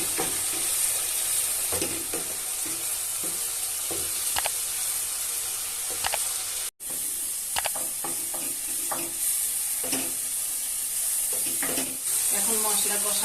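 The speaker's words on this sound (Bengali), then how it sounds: "এবার এটা নেড়ে ভালো করে কষাবো" Spice paste with cardamom and garam masala sizzles steadily in hot oil while being stirred for a papaya chicken curry, with a continuous close frying hiss broken by repeated scraping strokes of the spoon and one brief cut-out midway.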